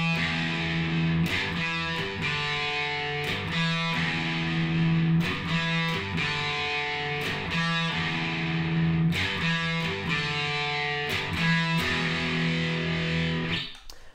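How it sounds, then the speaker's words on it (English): Electric guitar played through a Boss DS-1 distortion pedal, a mildly driven riff with steady repeated chords and sustained low notes, loud and close throughout. "I'm using a Boss DS1 distortion pedal"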